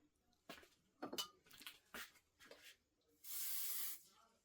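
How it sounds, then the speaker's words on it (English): A few soft clinks and handling taps during quilt-block stitching, then a single sharp hiss from a spray bottle lasting about a second. "So I'm going to give this a shot of spray."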